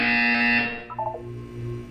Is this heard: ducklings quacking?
no